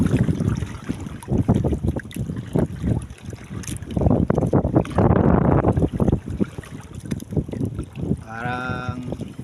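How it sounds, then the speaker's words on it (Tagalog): Strong wind roars across a fishing boat on rough sea, a loud, steady buffeting with gusts and splashing water throughout and a brief tonal whine near the end. "malakas pa rin ang hangin at saka maalon pa rin"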